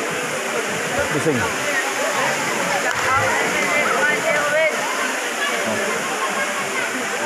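Mayahay Falls pours down in a loud, continuous rush of splashing water close by, with people speaking over the roar.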